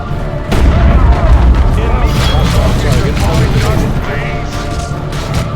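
Booming explosions and gunfire from a Warhammer 40,000: Chaos Rising battle, loud and continuous, with game voices talking over the din.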